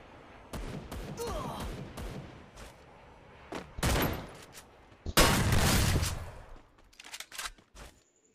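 Shotgun blasts in the mobile shooter Free Fire: scattered sharp reports early on, then a louder cluster of heavy shots midway and a few quick trailing pops, fairly quiet overall.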